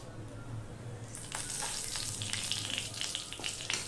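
Cumin seeds with a bay leaf split in two sizzle in hot mustard oil in a kadai, a steady close frying hiss that swells and crackles more busily partway through.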